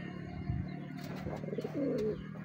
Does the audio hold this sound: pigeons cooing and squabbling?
yes